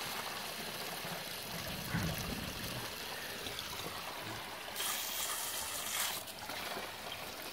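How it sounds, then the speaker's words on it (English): A garden hose turned up to full pressure runs water into a long channel drain, a continuous close rushing and trickling wash that swells briefly toward the end, with no one speaking. "Well, I have the hose turned up all the way."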